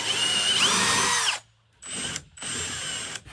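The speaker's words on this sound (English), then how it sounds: "Time to cut this piece out so we can mount the bracket." A power tool, likely a saw, cuts out a piece of an abandoned boat-car's body to mount a bracket, a loud, steady high whine running for over a second, then two shorter bursts separated by near-silent pauses.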